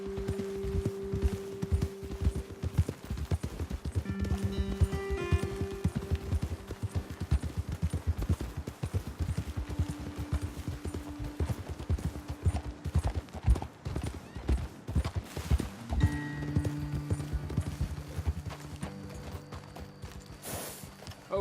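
Horse hooves clip-clopping steadily through Red Dead Redemption 2, riders moving at a walking pace, with creaking tack and game music tones layered over the rhythmic footfalls.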